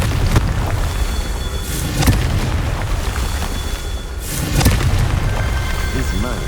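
Confringo fire spells blasting in a Hogwarts wizarding video game, a series of booming impacts at about 0.3, 2, 4.2 and 4.6 seconds over a steady rumbling game soundscape.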